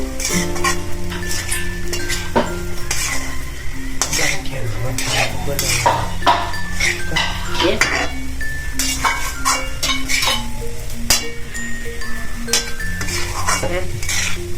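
Adadiya flour mixture roasting in ghee in a pan over a high gas flame, with steady spoon scraping and clinking of metal utensils over a continuous sizzle, loud and close throughout; steady tonal hum lines run underneath.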